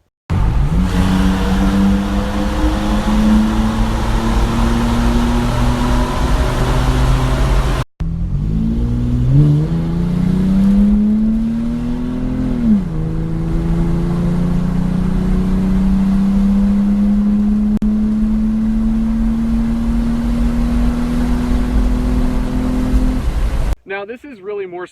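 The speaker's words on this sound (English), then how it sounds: "It's got a nice kind of throaty tone without being really raspy like a lot of other V6s are." A modified 3rd-generation Toyota 4Runner V6 revs repeatedly, climbing in pitch and holding with a throaty, loud tone, recorded close in two takes with a brief cut between them.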